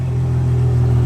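A Ferrari engine idles loud and close after a push-button start, a steady deep rumble with a slight rise in revs and no talking over it.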